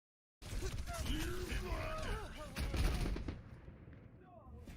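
Soldier: 76 firing in Overwatch: a stretch of rapid, fairly loud gunshots with pitched game effects, fading toward the end, with a voice speaking over it.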